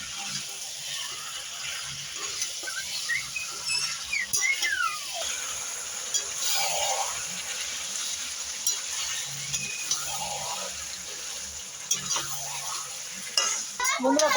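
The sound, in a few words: sautéing potatoes with meat in a pan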